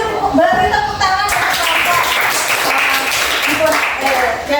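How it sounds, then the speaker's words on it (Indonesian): A classroom full of students applauds a group, with a short stretch of voice first, then dense, loud clapping from many hands that fills the rest of the moment. "sekarang lagi beri tepuk tangan"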